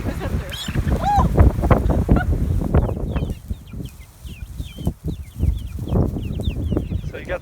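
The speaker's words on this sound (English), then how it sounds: "So you got the chickens right here" Chickens cluck and chatter in a farm pen with goats kept next door, with brief high calls scattered through and people talking throughout.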